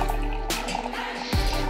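Water is poured into a pot for making spiced tea, splashing and trickling in close-up, with an abrupt change in the pour partway through.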